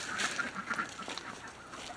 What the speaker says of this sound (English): tell the ducks